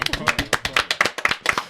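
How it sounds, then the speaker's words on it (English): A small group of men claps together in a podcast studio, a quick, uneven burst of sharp claps lasting under two seconds, with voices talking over it. "Can I get a clap for that, boys?"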